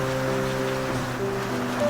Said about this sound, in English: It's just rain after all.